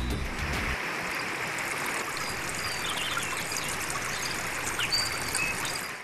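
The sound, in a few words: waterfall and flowing stream in forest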